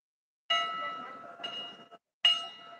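Temple bell at Rudraprayag in Uttarakhand struck twice, each a bright metallic clang with a long ringing tail, separated by a short silence, close and alone.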